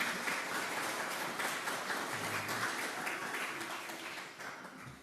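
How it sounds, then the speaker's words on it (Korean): Steady applause from a church congregation welcoming newcomers fills the whole stretch, dense and even, tapering slightly near the end. "우리 옆에 있는 분들 박수로 환영했으면 좋겠습니다"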